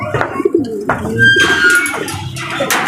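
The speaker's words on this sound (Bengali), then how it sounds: "এই যে আমার একটা পাল্লা করা কবুতর" Pigeons coo in a loft, several low repeated coos overlapping near at hand with brief scratchy movement sounds, no talking.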